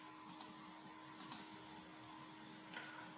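Two pairs of crisp computer mouse clicks, close and quiet, over a faint steady hum, then one softer click near the end.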